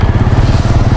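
A motorcycle engine idles close by in a loud, steady low throb with rapid regular pulses.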